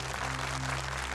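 An audience applauds at a Quran recitation contest, a dense, even wash of clapping that holds steady throughout with a low hum underneath.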